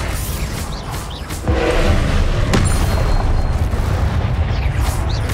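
In Hogwarts Legacy, the Confringo fire spell bursts with a loud, close boom partway through, then a heavy, sustained rumble carries on to the end.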